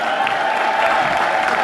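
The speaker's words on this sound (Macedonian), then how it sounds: "Еден аплауз за нашиот Джаро" Audience applause for a manager during a Macedonian celebrity talk show, a steady dense wash of clapping and crowd noise throughout, with no voices standing out.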